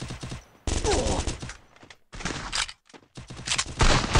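Dense bursts of automatic gunfire in a mobile shooter game, loud and close, broken by brief silent gaps between volleys.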